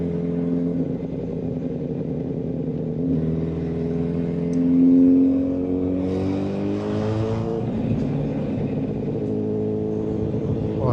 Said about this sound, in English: This is a very, very special motorcycle.